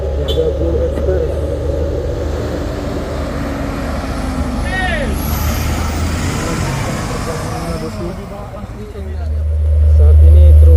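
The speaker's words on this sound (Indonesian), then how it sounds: "Saat ini truk-truk yang melewati lokasi kejadian bosku." Trucks pass the site of a road accident in a continuous traffic roar, and a heavy engine rumble swells close by near the end while people talk.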